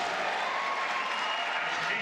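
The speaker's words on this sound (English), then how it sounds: "Big round of applause for Matt too." Steady, dense applause from the crowd at a college wrestling championship fills the arena evenly, with no pauses and no distinct voices rising above it.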